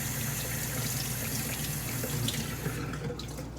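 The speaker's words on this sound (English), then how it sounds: "And then I give them a little rinse here." Running water from a tap pours steadily over newly bought aquarium fish held in a net, a constant close hiss and splash with no talking.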